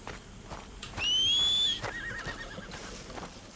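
A horse in the video game Red Dead Redemption 2 lets out a single loud, rising whinny over soft ambient game sound, with faint hoof clops around it.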